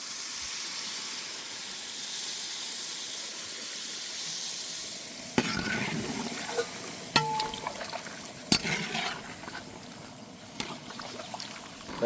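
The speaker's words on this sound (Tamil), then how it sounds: "தேங்காய் பாலில் உருளைக்கிழங்கு சூப்பராக வெந்து வந்துட்டு இருக்கு." Potatoes simmer in coconut milk for a Kerala-style potato theeyal, giving a steady soft hiss and bubbling, with sharper clicks and pops of the pan joining in after a few seconds.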